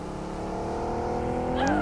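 A car engine in PUBG Mobile hums steadily and rises in pitch toward the end as it draws closer, with a faint voice underneath.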